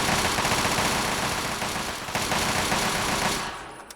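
Sustained automatic gunfire from Chinese soldiers in Fallout 3, a dense, loud, continuous rattle of rapid shots that tapers off at the very end.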